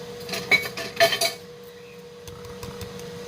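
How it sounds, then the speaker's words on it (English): Wine and tomato paste being whisked together in a pot: a few quick metallic clinks and taps of a whisk in the first second and a half, then only faint kitchen hum. "You're going to whisk this all together"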